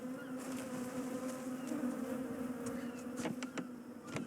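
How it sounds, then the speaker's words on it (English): Bees buzz in the underwater-city video game Submerged: a steady, close drone holds throughout, with a few faint clicks toward the end and no talking. "Not the bees."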